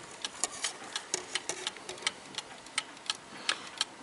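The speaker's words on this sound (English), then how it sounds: "Let's get this ticking again." An 1881 Ansonia marble mantel clock ticks close by in a quiet room, a steady run of crisp, even mechanical ticks at roughly four per second, alone with no talk.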